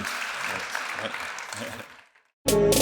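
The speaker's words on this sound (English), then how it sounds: "I think this is worth a big round of applause" Audience clapping at the close of a live panel discussion on sustainable fashion retail, a short burst of applause mixed with talk that fades out before a sudden loud sound cuts in.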